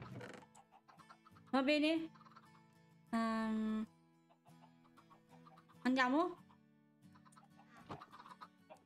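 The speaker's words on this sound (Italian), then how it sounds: "E ovviamente qui dei polli." Chickens cluck in Minecraft, short clipped bursts that recur through the clip alongside game sounds, while someone talks in Italian.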